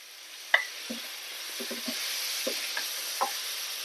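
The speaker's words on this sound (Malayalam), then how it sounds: "ഇത്രയും മസാല ഇതിലേക്ക് ചേർക്കുന്നുള്ളൂ എല്ലാം കൂടെ നല്ലോണം ഇളക്കി കൊടുക്കാം" Paneer mutter masala is stirred in a pan, a steady sizzle running under several sharp scrapes and knocks of a spoon against the metal, spaced irregularly and fairly close.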